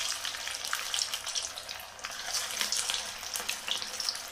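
Aval vada batter fries in hot oil with a steady, bright crackling sizzle and scattered pops, moderately loud and with no speech.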